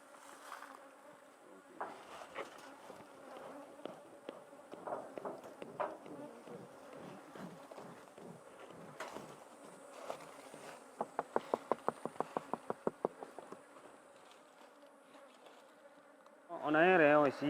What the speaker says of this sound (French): On enfume la ruche. On enfume les abeilles d'abord.